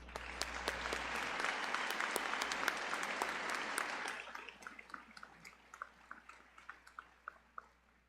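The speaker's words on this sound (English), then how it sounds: "Please join me in giving them a round of applause." Audience applause at a high school graduation ceremony fills the hall, steady and dense for about four seconds, then thinning into scattered individual claps that fade out.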